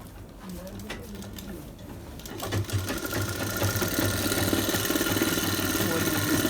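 A sewing machine stitching a bridal sharara whirs into a steady, close, loud mechanical hum after a quieter start, with a brief voice early under it.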